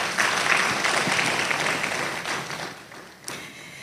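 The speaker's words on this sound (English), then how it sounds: "Let's clap to that." An audience at a gowning ceremony and public lecture bursts into clapping that is fullest at the start, then gradually thins and fades, with a few stray claps near the end.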